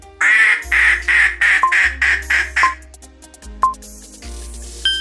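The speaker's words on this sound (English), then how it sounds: "A duck." A duck quacks in a rapid run of about eight loud, nasal quacks, close by, then falls quiet while short electronic beeps sound over a low hum.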